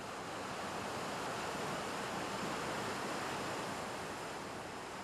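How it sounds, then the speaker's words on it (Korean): Jikso waterfall pours down steadily in a dense, continuous rush of falling water, loud and unbroken from start to finish. "아래로 쏟아져 내리는 폭포수."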